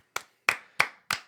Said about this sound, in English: A 3-second clap for Luka Doncic.